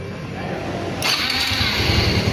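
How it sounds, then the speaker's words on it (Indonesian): A fuel-injected motorcycle engine with an ignition fault catches and starts, its running note stepping up abruptly and then holding steady up close, with a brief voice in the background. "kan motornya sudah hidup"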